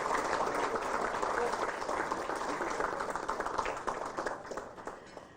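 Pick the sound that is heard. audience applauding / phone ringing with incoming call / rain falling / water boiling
audience applauding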